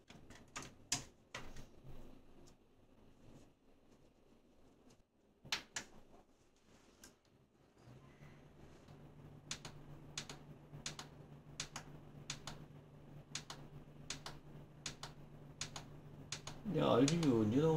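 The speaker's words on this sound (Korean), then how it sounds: "그 다음에 나사를 잠가줍니다." Screws driven into a computer case while assembling a PC, a scattered series of sharp close metallic ticks and clicks over a low steady hum, with a louder rustle near the end.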